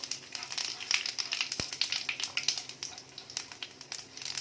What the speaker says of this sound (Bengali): হালকা করে এগুলোকে একটু ভাজবো কিছুক্ষণ, বেশিক্ষণ না, যাতে না পুড়ে যায়।